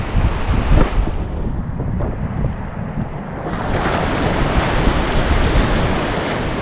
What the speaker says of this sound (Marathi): बघा उ लाट पण येतात आता तर लोटू हाय चालू आहे ना भरती चालू आहे तर आता पाणी पाणी वाढत जात आहे